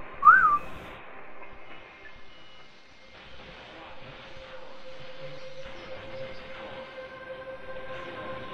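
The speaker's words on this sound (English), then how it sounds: "Give a little whistle" A short rising-and-falling whistle near the start, under a steady game soundscape with a sustained tone and a faint murmur of voices.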